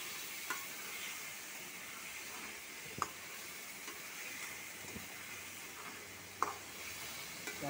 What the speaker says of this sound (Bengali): এখন মাংসটা দিয়ে দিচ্ছি। মাংসটা দিয়ে দিলাম। এখন ভালো করে কষিয়ে নেব।